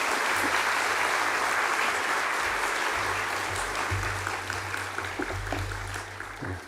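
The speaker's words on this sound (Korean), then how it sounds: "박수" Applause from a church congregation during a Sunday worship service, a steady wash of many hands clapping throughout, with a low organ or keyboard chord sustained underneath.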